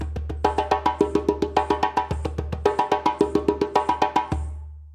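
A djembe played fast: a steady, rapid run of sharp hand strikes with ringing slap tones, close and loud, stopping cleanly at the end.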